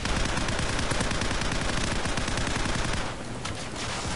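Gunfire in the video game Call of Duty 4: dense, rapid automatic shots roll on loudly for about three seconds, then drop to a quieter, sparser background.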